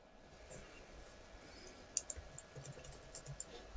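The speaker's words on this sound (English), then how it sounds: "And I'm just clicking everywhere I want to put this point." Quiet, sparse computer mouse clicks while planning a route in Garmin Basecamp, about a dozen light taps at irregular intervals over faint room hiss.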